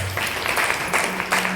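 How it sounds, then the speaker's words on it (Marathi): An audience at a devotional Ramayana performance gives brief applause, a soft scattered patter of clapping spread through the crowd with no voice over it. "त्यांच्यासाठी एकदा जोरदार टाळ्या"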